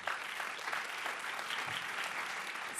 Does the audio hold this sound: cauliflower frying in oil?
no